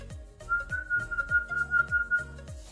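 A person whistles a sustained, steady high tune over a repeating rhythmic beat in the background, close and clear with no talk.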